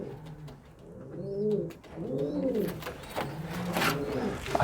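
Young carrier pigeon squabs coo close by in soft, rising-and-falling throaty calls repeated three or four times, with faint shuffling and handling noises around them.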